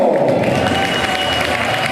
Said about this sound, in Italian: E ora forte l'applauso per PLC Filmar